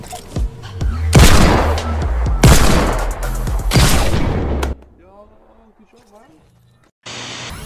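Gunfire in the Fortnite video game comes as several loud, close bursts and booming volleys over a few seconds. It is followed by quieter game sounds, and then another burst.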